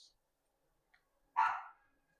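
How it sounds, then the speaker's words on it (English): A single dog bark, short and sharp at moderate distance, standing out in an otherwise quiet room after a faint earlier sound, with no talk over it. "Confirmation bark, I guess."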